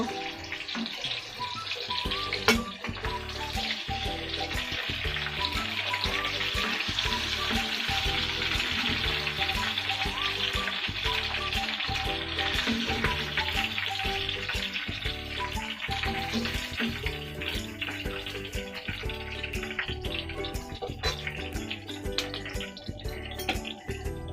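Hilsa fish fries in hot oil with a dense, continuous crackling sizzle, steady and close, with bubbling and spattering throughout and no speech.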